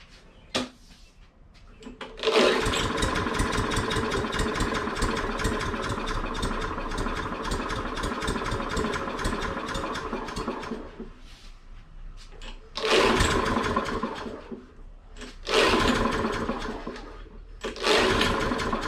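A Toro Recycler lawn mower that will not start sputters into brief bursts of engine running, cutting out and catching again several times amid quiet gaps, close and fairly loud.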